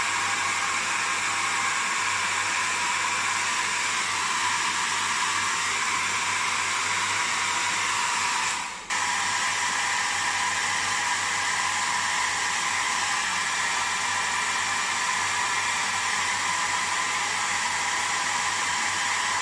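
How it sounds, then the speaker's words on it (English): A hair dryer blows with a steady, loud whooshing hum, briefly dipping once midway before resuming its constant roar. "With the hairdryer,"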